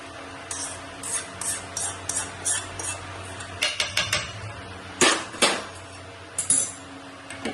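A spoon clinks and scrapes against a metal pot or bowl while spice masala is mixed in, giving irregular sharp knocks that grow busier and louder toward the end, with no talking.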